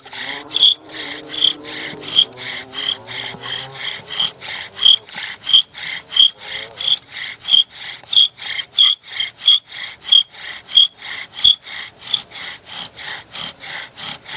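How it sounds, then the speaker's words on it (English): Wooden bow drill spindle grinding against a wooden fireboard, a steady rhythmic rasping back-and-forth sawing stroke repeating about twice per second, close and loud, with no talk. "Now you can hear it starting to grind."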